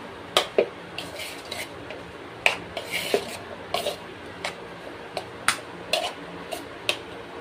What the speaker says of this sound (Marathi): आपण व्यवस्थित चमच्याने हे मसाले आधी सगळे लावून घेऊया